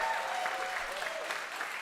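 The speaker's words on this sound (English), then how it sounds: "let's have a round of applause" Applause from a small audience at a singer-songwriter's lockdown session, a steady, moderately quiet patter of clapping holding evenly throughout.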